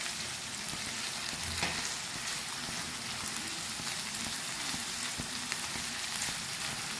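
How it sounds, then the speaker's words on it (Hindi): Onions fry on a tawa over a medium flame, a dense, steady sizzle with faint crackles and an occasional scrape of stirring, and no voices. "प्याज को हम मीडियम फ्लेम पर फ्राई कर रहे हैं।"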